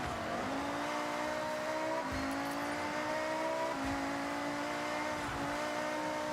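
Racing video game car under full throttle, engine note climbing steadily in pitch and dropping at each gear shift, repeating several times in a continuous loud drone.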